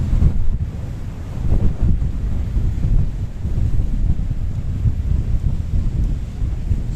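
Strong wind gusts on a clifftop at Cape Greco near Ayia Napa, Cyprus, roaring steadily and loudly against the microphone in a low, continuous rumble with no voices.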